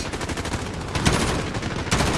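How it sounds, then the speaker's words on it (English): Rapid automatic gunfire in the Call of Duty Modern Warfare campaign, a burst of dense cracking shots with a couple of louder reports, close and alone. "our guys will hear my gun going off"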